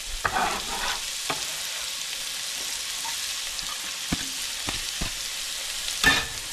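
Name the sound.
onions sizzling while frying in oil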